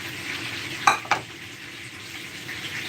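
Tilapia fish fries steadily in a pan, a soft continuous sizzle broken by two brief clattering knocks from the pan or lid early on, with no talking.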